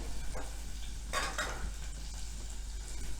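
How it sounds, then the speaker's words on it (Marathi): Red and yellow bell peppers and green peas sauté in warm ghee, a steady soft sizzle with a couple of brief scraping stirs. "हे नुसते सॉते करून घ्यायचे"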